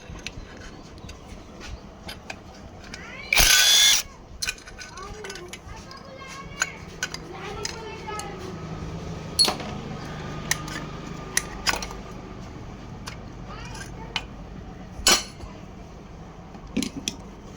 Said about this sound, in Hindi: अब हमको ये तीनों बोल्ट को खोलना है, आराम से बराबर बराबर करके खोलना है ताकि ये बोल्ट टूटे ना।